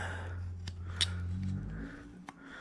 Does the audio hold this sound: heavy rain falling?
no